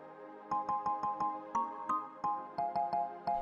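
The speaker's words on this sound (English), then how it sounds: "Your phone has been ringing." A mobile phone rings with a repeating electronic melody, crisp tonal chirps in a steady rhythm of short bursts, fairly quiet and alone in a still room.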